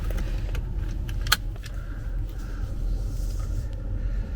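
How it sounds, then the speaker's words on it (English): Inside a Kia EV6, a seatbelt buckle clicks sharply once into place amid soft rustling of the belt strap, over a low, steady cabin rumble. "So I'll put my seatbelt on."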